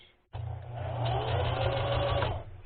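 Sewing machine backstitching to secure ribbon trim on tutu socks: after a brief quiet moment the motor kicks in and whirs continuously for over two seconds, close and clear, then tapers off.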